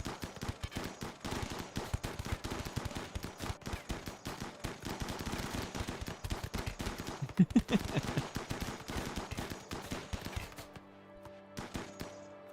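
Rapid bursts of gunfire from the video game Iceberg, dense and continuous for about ten seconds before cutting off, leaving a quieter tonal hum at the end.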